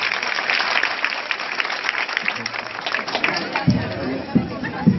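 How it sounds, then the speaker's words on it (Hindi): Audience applause after a drama performance, a broad wash of crowd clapping mixed with chatter, with voices becoming more prominent near the end. "इन सभी के लिए एक बार जोरदार तालियां"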